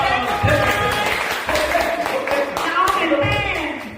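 A group at a healing mission camp gathering applauds, with a steady wash of claps mixed with excited voices and cheering throughout.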